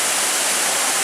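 Loud, steady broadband rush of a waterfall on the Cross River, heard close with no other sounds over it.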